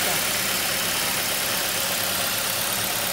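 A 2005 Ford Mondeo engine idles smoothly after a new engine support is fitted, a steady close hum under a wash of broadband noise, with no knocking.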